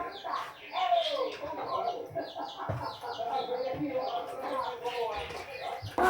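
A domestic chicken clucks and squawks continuously at close range, busy overlapping calls filling the whole stretch with people talking underneath.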